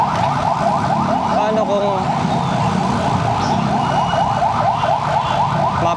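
An ambulance siren wails loud and close in a steady repeating cycle over street noise, with someone briefly speaking underneath.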